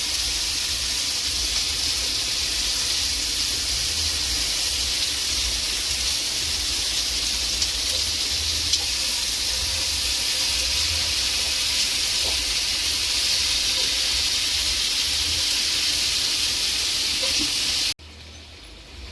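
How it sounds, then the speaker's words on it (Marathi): Chicken tandoori drumsticks fry in a pan with a steady, close, broadband sizzle and hiss that holds evenly throughout, then cuts off abruptly near the end. "आपले ड्रमस्टिक मस्त फ्राय होत आहेत"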